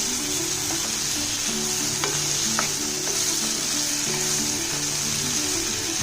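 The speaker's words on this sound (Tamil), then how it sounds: "இன்னும் ஒரு 2 நிமிஷம் வதங்கினா போதும்" Okra and onions sauté in a pan for an okra fry, giving a steady close sizzle with a few scraping stirs and light clinks of a utensil, and nobody speaking.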